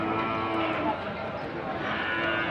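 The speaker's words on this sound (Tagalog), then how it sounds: "Ang dami ng kalabaw nito, oh." A large herd of carabao, or water buffalo, lows continuously with overlapping deep moos close by, while people talk over the animals.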